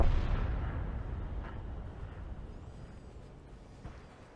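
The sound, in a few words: tank gunfire and hits in video game World of Tanks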